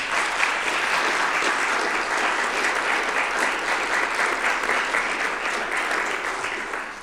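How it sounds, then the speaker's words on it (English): An audience at a school board of education meeting claps for itself, with even, sustained applause that stays dense and steady throughout without pause. "Yeah, clap for yourselves."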